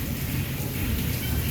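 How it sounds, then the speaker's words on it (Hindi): Heavy rain pours in windy weather with thunder, a dense, loud, continuous roar of downpour and gusts filling the short stretch without any voices. "साथ में बादल भी इतना ज़्यादा गरज रहे हैं, और हवा है ना जैसे, तो बारिश ऐसे हवा में लहराती है।"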